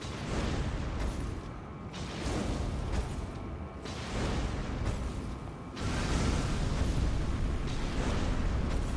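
Fire bombs bursting in a Macbeth action game, a run of heavy whooshing explosions in broad waves a couple of seconds apart, loud and roaring throughout with no talk.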